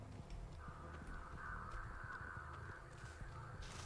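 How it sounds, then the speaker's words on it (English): Crows caw after being disturbed in Dead by Daylight on the Backwater Swamp map, a steady run of harsh calls for several seconds over a low game rumble. "That probably was me disturbing crows"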